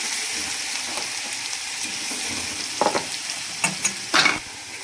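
Garlic and cumin temper in hot oil for a raw mango chutney, giving an even, close sizzle with a few sharper stirring scrapes and spatters toward the end.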